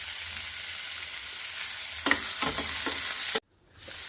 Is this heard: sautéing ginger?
yes